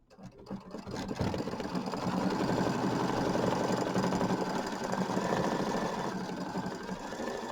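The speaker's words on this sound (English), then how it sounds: "The next step is going to be the satin stitch outline" An embroidery machine sews a satin stitch outline on a Kimberbell mini quilt, starting up and then holding a steady, close, rapid mechanical hum with fine rhythmic needle pulses.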